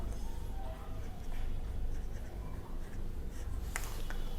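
Pen or chalk scratches steadily as a free body diagram is drawn for a physics problem, a continuous faint scraping over a room hum with a few sharper taps near the end.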